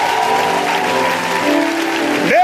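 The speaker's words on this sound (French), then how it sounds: "Acclame, acclame, acclame," A church congregation applauds together in a dense, steady wash of clapping that holds throughout, with a short sung or voiced tone rising at the very end.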